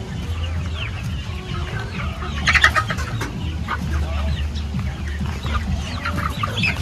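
Young backyard chickens, about two to three months old, cluck steadily and close by in a continuous flock chatter, with scattered chirps and a brief louder burst partway through, and no voices.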